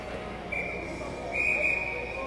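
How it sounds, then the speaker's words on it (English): A referee's whistle at a 12U AA youth ice hockey game, sounding as two sharp, steady shrill blasts, a short one followed by a longer, louder one, over the rink's constant background noise. "Whistle."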